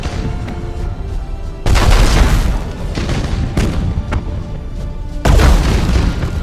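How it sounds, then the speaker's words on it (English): Warship cannon broadsides boom out in the Battlefleet Gothic Armada space game, heavy close blasts arriving in two big bursts with rumbling volleys between them, loud and without talk. "I just love the sort of epic broadside effect"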